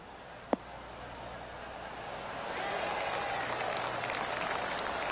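A golf crowd applauds in a PGA video game after an approach shot onto the green. The clapping is soft and distant, builds after a single sharp click, and continues as a steady patter under a faint background hum.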